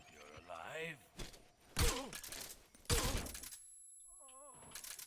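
Gunfire in Metal Gear Solid Delta: two or three sharp, loud shots land a second apart, mixed with in-game voices and high, cat-like cries.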